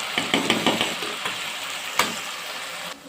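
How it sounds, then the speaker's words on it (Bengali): Onion sautéing with ginger and garlic in a pan, a steady loud sizzle with a few light spatula knocks and scrapes, ending abruptly. "পেঁয়াজের সাথে আদা রসুনটা একটু বেশি করে কষে নিই"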